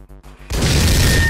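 Bomb going off in the top-down game Hotline Miami: a sudden loud boom after a short choppy musical lead-in, then a dense sustained roar to the end.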